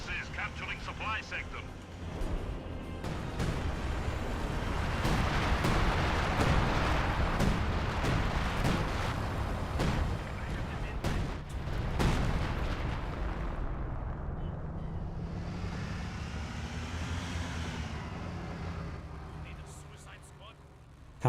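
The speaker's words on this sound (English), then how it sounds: "the Scavenge artillery barrage now being summoned" Artillery barrage in the Company of Heroes 2 video game: a dense, continuous rumble of shell blasts and booming impacts fills most of the stretch, loud and sustained under commentary, then thins out near the end.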